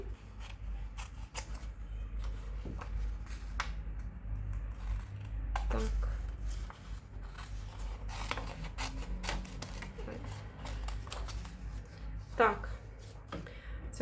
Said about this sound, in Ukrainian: Ось тут я підрізаю лишній папер до цієї